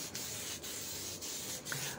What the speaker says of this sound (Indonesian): Sama seperti primer, gold ini kita semprot tipis berulang sampai nutup sempurna.